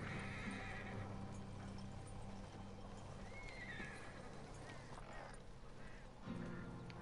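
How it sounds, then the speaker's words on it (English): Horses standing outdoors near rocks neigh and whinny while hooves clip-clop beneath a steady, fairly faint outdoor background, with brief honking or quacking calls mixed in and no clear speech. "Both those horses are right in the way."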